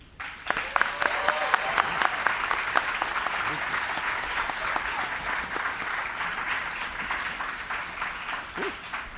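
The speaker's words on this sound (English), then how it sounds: "Let's give her one more round of applause" An audience at a 2016 MLK primary and intermediate division event applauds after a song, with steady, dense clapping from a crowd holding for several seconds at a moderate level.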